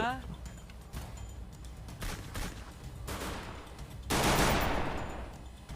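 Gunfire in the Free Fire mobile game comes as repeated loud bursts over steady game noise, with a player's voice talking through it.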